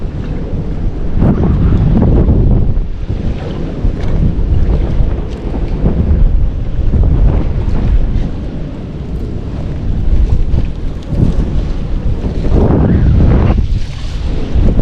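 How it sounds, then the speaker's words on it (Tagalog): Strong wind buffets the microphone in a continuous roar at an old fishpond, with gusts swelling and easing, and water lapping faintly underneath. "malakas ho ang hangin"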